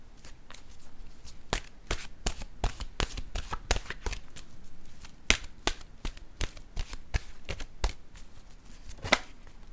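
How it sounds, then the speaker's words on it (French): Oracle cards shuffled by hand, a rapid series of crisp slapping and riffling strokes, close and fairly loud, with irregular rhythm throughout. "Je vais piger une carte de mon oracle maintenant de l'âme intuitive"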